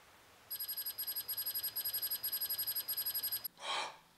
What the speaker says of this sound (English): Where's the alarm come from?